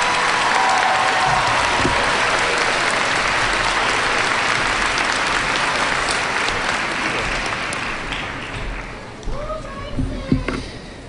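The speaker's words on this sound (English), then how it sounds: "Please join with me in showing your applause for these graduates from the College of Business." Audience applause for College of Business graduates at a fall commencement ceremony, a broad sustained clapping crowd that gradually fades after about eight seconds, leaving scattered handclaps and brief voices in a large hall.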